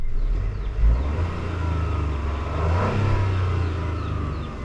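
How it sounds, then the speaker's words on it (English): A 2022 Chevrolet Trailblazer's three-cylinder engine revs steadily up and down, a low throaty drone that swells and settles across a few seconds with no talking. "But engine noise check."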